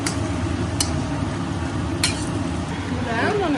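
Sausage and sauce being stirred into pasta in a pan, with a steady low sizzle under scraping and a couple of sharp utensil clinks against the pan, close and fairly quiet.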